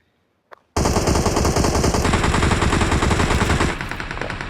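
Rapid automatic gunfire in the battle royale shooter PUBG erupts suddenly after a brief click and keeps rattling loud and close in a dense, unbroken stream for nearly four seconds, easing slightly near the end.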